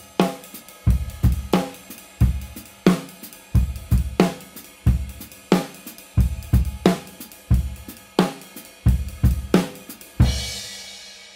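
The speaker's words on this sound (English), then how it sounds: "What you just heard was a 3/2 polyrhythm." Drum kit groove built on eighth notes with the right hand layering a 3/2 polyrhythm, steady repeating kick and snare hits with cymbal wash, played alone and close, ending on a sustained crash.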